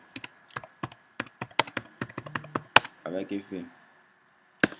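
A folder name is typed on a computer keyboard in a quiet room: a quick run of crisp, close key taps in uneven bursts, with a brief stretch of talk in the middle and one last tap.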